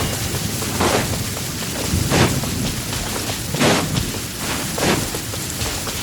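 Heavy rain falls in a downpour in Genshin Impact, a steady broadband hiss with soft swells and low rumbles throughout, loud and continuous with no speech.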